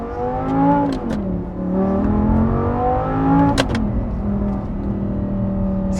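A 2010 Audi R8 V10 with a gated manual gearbox and stock exhaust, heard up close as a loud, smooth engine whose pitch climbs and falls through revs, with one sharp shift-like blip midway.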